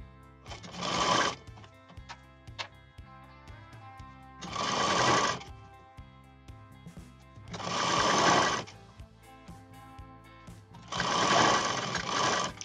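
A sewing machine stitches the lower belt pieces of a double katori blouse in four separate loud runs of steady whirring, with quiet pauses between them and no talking.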